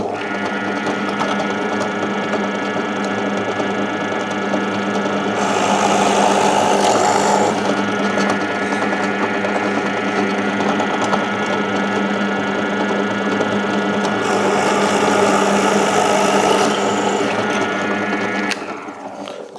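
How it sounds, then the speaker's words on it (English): A pillar drill runs steadily for about twenty seconds, boring holes on center in wood for a simple automaton toy, with a louder grinding rise as the bit cuts at two points and a constant motor hum underneath. "drilling these on the pillar drill as well"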